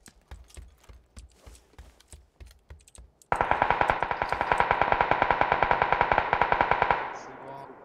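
Gunfire in a shooting video game: a few scattered single shots, then from about three seconds a loud, sustained burst of rapid automatic fire lasting several seconds before cutting off.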